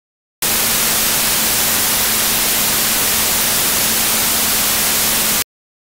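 Steady, loud hiss of dithered broadband noise with a faint constant 220 Hz sine tone buried underneath, starting and stopping abruptly.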